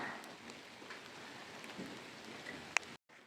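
Steady rain falls outdoors over a garden plot, a faint, even patter of drops with a few sharper hits, then the sound cuts off abruptly near the end.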